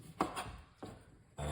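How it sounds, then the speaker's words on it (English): A knife chops ingredients for a blender diet drink with three soft, separate cuts on a board, quiet and close, with no talking. "I'm just gonna cut up the ingredients and put it into the blender"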